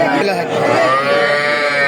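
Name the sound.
cattle lowing at livestock market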